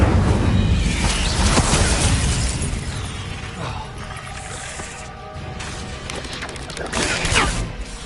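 Fiery whooshes and crackling bursts from a cast Incendio fire spell in Hogwarts Legacy, sounding loud and close among other spell blasts and impacts, with a brief swell near the end.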